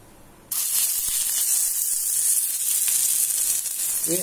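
Adai batter of wheat flour hits a hot dosa griddle with a sudden, loud sizzle that keeps hissing steadily close by.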